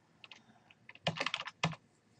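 Keys on a computer keyboard are pressed in a short burst: a few light taps, then a quick cluster of louder, close keystrokes, all in an otherwise quiet room.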